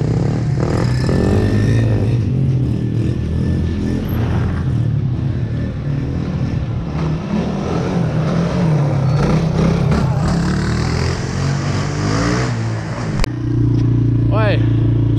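Quad ATV engines from a Yamaha Blaster, Honda TRX450 and Suzuki LTZ400 rev loudly and continuously nearby, a rough rising and falling roar throughout with a sharp clack near the end.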